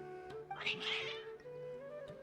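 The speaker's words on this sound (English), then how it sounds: "Your cats seem pretty worked up." Cats in Genshin Impact let out one drawn-out, agitated meow over quiet game music.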